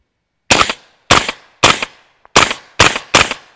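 Six sharp suppressed shots from a CMMG Guard .45 ACP pistol-caliber short-barreled rifle with a suppressor weight in the bolt carrier and a Rugged Obsidian can in short configuration, firing Fiocchi ammunition, spaced irregularly about half a second apart, loud and close.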